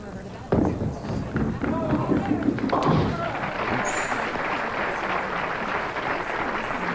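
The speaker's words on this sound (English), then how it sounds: "For those that don't know, the sound of the ball going down." A bowling ball rolls down the lane during a 1997 title match, starting with a sharp thud and continuing as a steady rumble, with crowd and arena noise around it.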